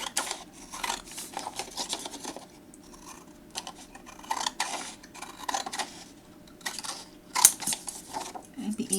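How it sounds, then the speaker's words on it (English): Scissors cut paper close by in a run of crisp, irregular snips and rustles, with some talking between the cuts. "I can just use my scissors for this."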